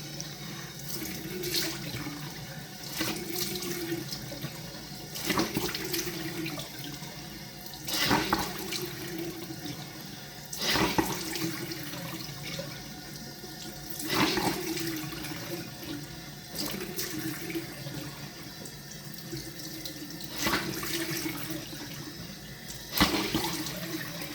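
A running shower at home, water spraying and splashing steadily, with rhythmic bursts as the spray is interrupted and resumes, fairly close and without talk.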